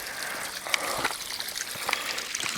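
Water from a solar-powered fish pond waterfall trickles and splashes nearby in a continuous babble with small irregular droplet splashes, moderately quiet and without speech.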